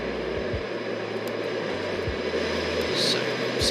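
Concorde jet engines roar outside the aircraft in the X-Plane flight simulator, a steady loud broadband rush with a low rumble running throughout.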